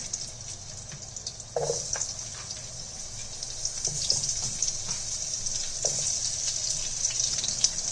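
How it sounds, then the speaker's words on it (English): Large potato wedges fry in leftover oil from cooking fish, giving a steady, close hiss and crackle with a few louder pops. "I'm going to cook that in the same residual oil."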